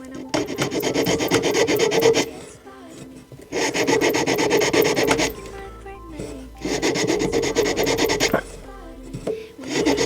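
Steel file rasping against a ring's metal bezel held firm in a clamp, in three long bursts of rhythmic back-and-forth strokes separated by short pauses, close and loud.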